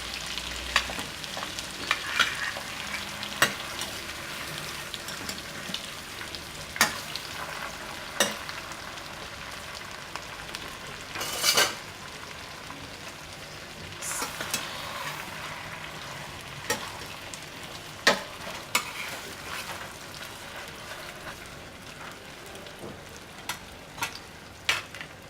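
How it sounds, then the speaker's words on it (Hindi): Brain masala (bhejja fry) frying in a pan, with soft continuous sizzling and scattered stirring clinks and taps, heard alone without talk. "अब इसको अच्छी तरह थोड़ा सा फ्राई करेंगे ताकि इसका कच्चापन चला जाए।"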